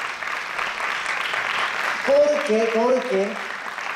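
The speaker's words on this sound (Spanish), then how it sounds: "Fuerte el aplauso." A festive Christmas singing gathering breaks into applause, a broad wash of clapping for about two seconds before a voice speaks over it and the clapping fades underneath.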